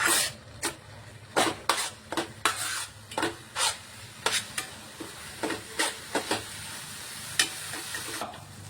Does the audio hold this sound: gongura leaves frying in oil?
yes